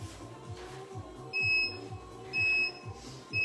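A workout interval timer gives three steady electronic beeps about one second apart, clear and near over a low rhythmic background hum, with no talking.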